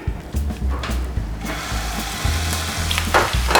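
Onion fries in a pan with a close, continuous sizzle and crackle, joined by a few scraping stir sounds, fairly loud and without speech.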